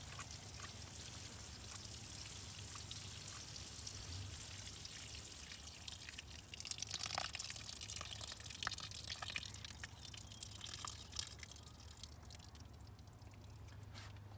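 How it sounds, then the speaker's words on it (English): Water pours steadily onto the soil around a banana plant, a faint continuous splashing and trickling that grows slightly stronger midway. "So I'll water that deep down in there."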